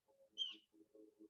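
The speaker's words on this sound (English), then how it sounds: "Some noisy birds tonight." Birds call outside at night, a brief chirping burst standing out over a quiet, low murmuring background; the calls are short and moderately close rather than loud.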